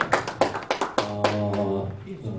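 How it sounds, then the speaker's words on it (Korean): Scattered hand claps at an arbitration industry forum, about five sharp claps spaced evenly in the first second or so, followed by a sustained voice-like tone with no further clapping. "김은길 교수님 박수 부탁드리겠습니다"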